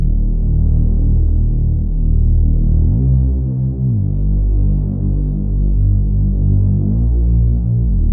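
A synthesized Reese bass drones loud and continuous, its low end throbbing and wavering in level, with a pitch shift partway through.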